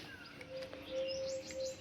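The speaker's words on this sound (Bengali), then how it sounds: "এই দেখ পাখি ডাকছে" Birds call with clear chirps and tweets on a rooftop where grain and bread are put out for them, the calls fairly close and repeated over a quiet, faint background.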